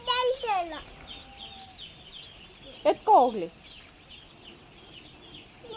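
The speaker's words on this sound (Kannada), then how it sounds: "ಈಗ ನೀವು ನೋಡ್ತಿರೋಂತಹ ಕೋಳಿ ಇದು ಫಸ್ಟ್ ಡೇ ಬಂದಿರೋವಂಥದ್ದು." Day-old chicks at a poultry farm, with high-pitched peeps and chirps in a few short bursts and a voice speaking briefly.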